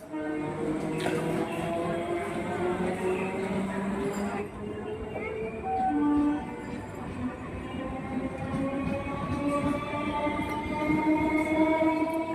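A train rumbles and rattles into a station with droning, tonal wheel and engine noise, while people talk nearby over the clatter.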